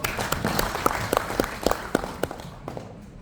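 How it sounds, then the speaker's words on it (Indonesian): An audience at a hearing claps in a short, thin burst of applause, with a few distinct hand claps that fade out toward the end. "Pak Marzuki Ali, tepuk tangan untuk beliau."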